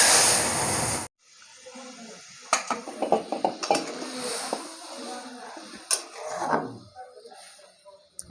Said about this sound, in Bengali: এখন আমি তরকারিটা ফোড়ন দিয়ে নেবো।